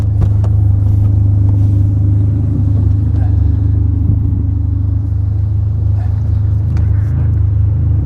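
A car drives after suspension and wheel bearing repairs, with gearbox trouble and lost gears. A steady, loud low engine and road rumble is heard close up and continuously throughout.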